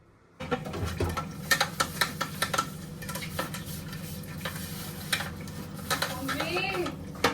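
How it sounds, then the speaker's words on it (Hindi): Dishes and utensils are washed in a home kitchen with running water, clinking pots and scrubbing over a continuous hiss, while someone talks in the background. "मैं सिर्फ फटाफट 2 बर्तन है मैं वो धो रही हूँ"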